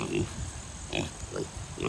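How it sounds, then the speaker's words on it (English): Two large farm pigs grunt low and repeatedly while pushing a mobile house outdoors, faint, short grunts spaced through a steady background noise. "Polish house in with Cupcake and Boudreaux, our two biggest pigs on the farm, and they were pushing it all over into the fence."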